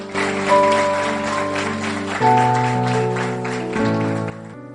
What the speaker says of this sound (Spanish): Den un aplauso al Rey antes de ir a la palabra.